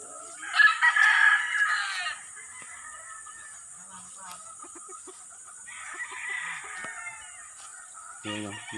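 Chickens, including a brood hen, sound off in a Philippine yard: a loud rooster-like crow near the start, then softer scattered clucks and a second burst of calling, with faint background hiss.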